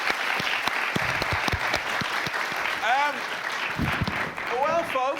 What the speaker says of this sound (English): let's give one more round of applause for Dan